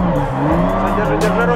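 Car drifting under hard throttle, its engine roaring loud and close, with tires squealing against the pavement in one short continuous burst.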